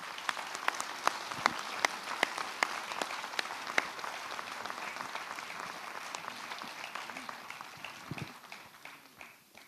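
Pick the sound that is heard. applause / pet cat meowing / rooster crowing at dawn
applause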